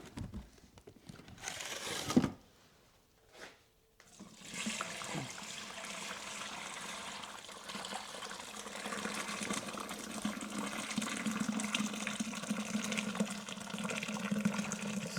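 Filtered melted beeswax is poured into a container, first in short splashy bursts, then as a long, steady, faint trickling pour.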